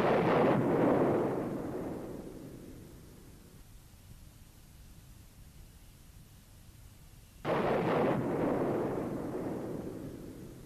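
A fighter jet's ejection-seat canopy blows off explosively in two sharp, loud bursts, each decaying into a broad roar over several seconds, with a quieter rumbling stretch between them.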